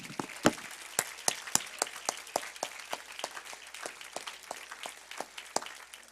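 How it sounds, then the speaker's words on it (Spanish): A church congregation claps together in a steady, even rhythm, individual hand claps standing out clearly through a continuous wash of applause, with almost no talking. "Vamos a darle otro aplauso al Señor, iglesia."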